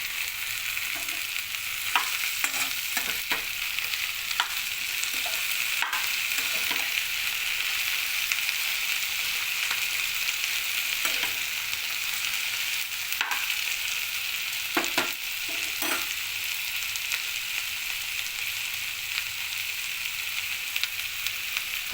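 Ivy gourd curry frying in a pan with green chilli, giving a constant bright sizzle while a spoon stirs and scrapes the pan in irregular bursts across the whole stretch.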